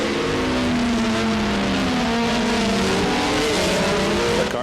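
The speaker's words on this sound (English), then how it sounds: "Bourdais must be having a problem here in the Supernova car." A 2002 Formula 3000 race car, the Supernova entry, slows with a problem during the first round in Brazil. Its engine howls loudly and continuously, the pitch sliding gradually downward as it eases off.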